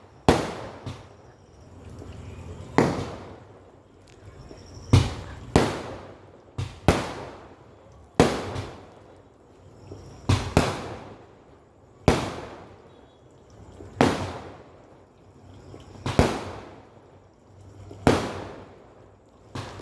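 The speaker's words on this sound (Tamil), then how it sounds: "இந்த வெடி சத்தமும் அந்த மேலே சத்தமும் சேர்ந்து கேட்குதுங்க." Firecrackers burst in repeated sharp, loud cracks roughly every one to two seconds, each with a short fading tail, at a temple festival, with no talk.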